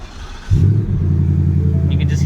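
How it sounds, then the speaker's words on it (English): A 2020 Ford Mustang GT V8 fires up nearby, a sudden loud burst settling straight into a deep, steady, grumbling idle that holds through the end. "You can just hear that awesome V8 grumble that this thing has"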